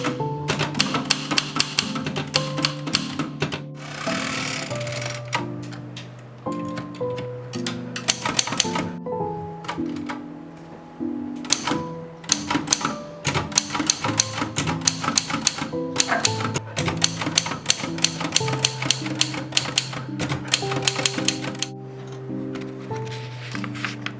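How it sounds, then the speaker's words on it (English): A vintage typewriter made in Holland in 1956, with dark forest green keys, clatters in a steady stream of key strikes beneath continuous background music. "I found my very own vintage typewriter. Made in Holland in 1956, she's in perfect working condition."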